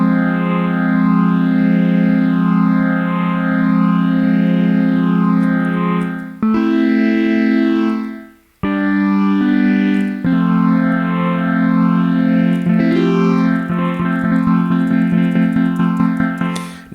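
An Ableton Drift software synth plays loud, buzzy sustained notes and chords as its drift amount is turned up, so the tones waver and detune. There is a brief dropout partway through, and a thick, shifting texture builds toward the end.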